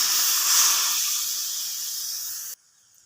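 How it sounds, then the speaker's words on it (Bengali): Water hits a hot pan of potatoes fried in spices, giving a loud, close hiss with a sharp crackle at the start. The hiss gradually fades and cuts off abruptly near the end, with no talking. "এবার জল দিয়ে দেবো পরিমাণ মতো,"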